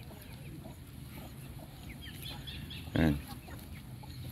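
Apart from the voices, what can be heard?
chickens, ducks and turkeys foraging on a farm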